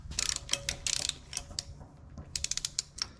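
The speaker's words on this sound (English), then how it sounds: "Need to loosen the crank bolt a little bit more so the balancer will actually move." A ratchet wrench clicks in quick bursts while loosening the crank bolt on a Mopar 440 engine's harmonic balancer, in a 1968 Dodge Charger build. The clicks come close and crisp, with short pauses between strokes.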